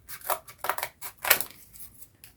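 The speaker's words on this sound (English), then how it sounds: "cut out this with your scissors" Scissors cutting out a paper drawing, a series of close, crisp snips and rustles in uneven bursts with short pauses between, no talking.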